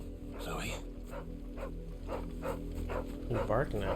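Dog barking in Final Fantasy XVI, a brown-and-white girl dog giving repeated short barks at a steady rhythm under game music and voices.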